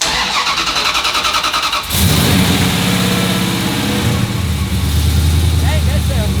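Hemi-powered Dodge drag car with a new exhaust cranks over and fires up into a loud, rough idle with revs, close to the listener, with people talking over the engine noise.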